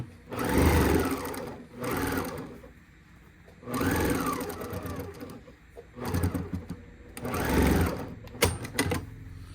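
A sewing machine stitching a quarter-inch seam on a placemat being made into a boxed bag, running in three or four loud bursts of rapid needle whirring separated by brief pauses.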